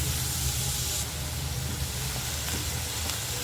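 Chopped onion hitting hot oil in a pan while cooking bitter gourd chutney, a steady broadband sizzle and hiss throughout, fairly loud and close with no talking.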